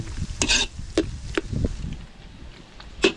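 Squid cooking in a pan for ginataang pusit, releasing its water with a wet sizzle and bubbling while a utensil stirs and scrapes in a few sharp strokes, close and fairly quiet.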